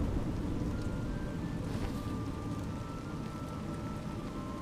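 Steady, dense rain pours down in the video game A Juggler's Tale, a continuous even wash of falling water with no voices.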